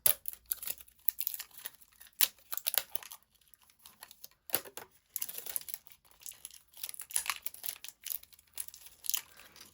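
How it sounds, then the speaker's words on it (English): Crafting packaging for a Distress Spritz card and thrinchie is torn open and unpacked, with continuous close crinkling and crackling of plastic and paper in irregular bursts, no talk. "it makes for an interesting video watching somebody unpack"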